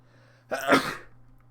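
A single short sneeze close to the microphone, a sharp burst that fades quickly in a quiet room with a faint steady hum underneath.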